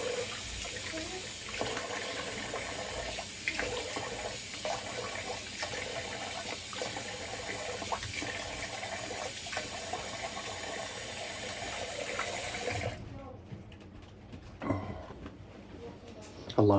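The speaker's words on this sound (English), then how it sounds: "get rid of this water again and rinse off another again" A bathroom tap runs steadily as a razor is rinsed during a wet shave, a continuous close splash that stops near the end, leaving quieter room sounds and a brief clatter.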